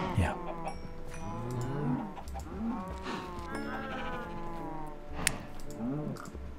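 Several cows mooing in the Minecraft video game, overlapping low drawn-out calls from a crowded pen of farm animals, repeated through the whole stretch with no talk over them.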